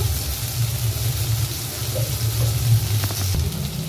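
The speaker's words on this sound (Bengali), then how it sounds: "আমরা বেগুনগুলোকে একটু হালকা করে ভেজে নিই" Eggplant pieces lightly frying in oil in a pan, a loud, continuous close sizzle with a low bubbling hum, steady and alone, with a couple of faint clicks near the end.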